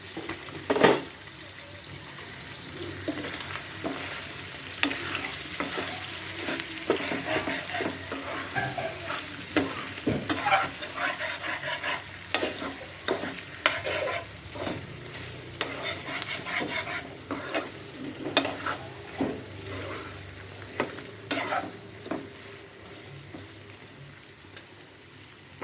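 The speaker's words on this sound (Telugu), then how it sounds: "ఇంకా కొంచెం ఫ్రై అవ్వాలండి." Chicken frying in a pan, a steady sizzle with scraping and stirring that carries on throughout, broken by sharp clinks of a utensil against the pan, at moderate volume with no clear talk.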